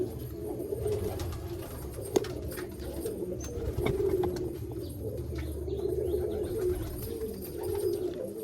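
A Malwai pigeon in Baruipur coos in low, soft, throaty murmurs that run on steadily close by, with a faint tap partway through and no one speaking.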